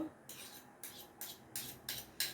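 Thick ragi manni being stirred in a pan with a spoon, heard as five or six rhythmic scraping strokes against the metal, close and fairly quiet.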